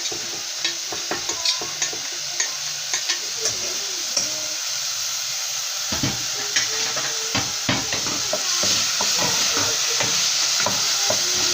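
Parsley goes into frying onion for a chicken lasagna, a loud, close sizzle with repeated spoon scrapes and clicks against the pan, and the frying builds steadily throughout.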